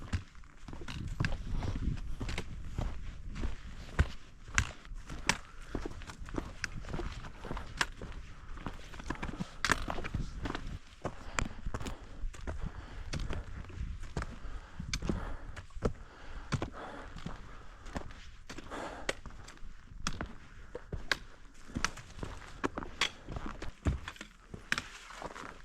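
Steady footsteps of a hiker walking through a forest toward a mountain in Canada, a continuous crunching rhythm that stays close throughout with no talking.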